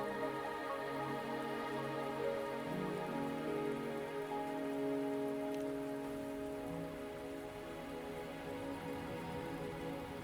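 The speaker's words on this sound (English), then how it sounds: "Are you trapped here by the rain?" Steady rain falls in the video game Wuthering Waves, a soft continuous patter on surfaces with a low hum underneath, fairly quiet and unbroken for the whole stretch.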